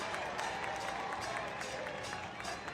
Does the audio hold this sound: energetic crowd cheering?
yes